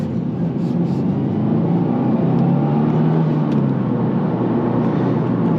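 A 2024 Subaru WRX TR drives on a road and accelerates, heard from inside as a loud, steady low engine drone with road and wind rumble that builds slightly and holds.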